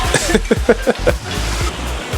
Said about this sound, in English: It's just constant sound of water flowing, all these beautiful little waterfalls everywhere.